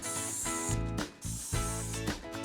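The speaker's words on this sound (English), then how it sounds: "I'm gonna spray, wipe," A bottle of Dawn Powerwash dish spray hisses out a steady, continuous mist in two close, loud bursts, with a brief pause between them and no talking.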